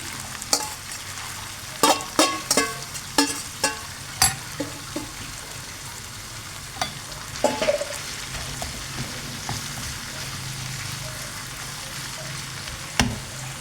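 Chard is tossed into a pan of frying peppers and tomatoes, with a steady sizzle under a series of sharp spoon scrapes and stirring clatters, busiest early on, then a quieter simmer with occasional knocks.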